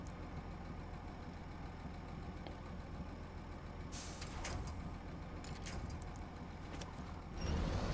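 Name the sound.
Western Star 6900 Twinsteer truck engine, SnowRunner video game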